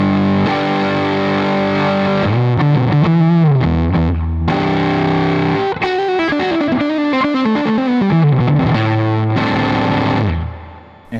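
An electric guitar played through a homemade fruit-powered pedal with a potato as the power source gives a loud, distorted, chorus-tinged tone, sustained chords and melodic runs with brief pauses, alone without talk.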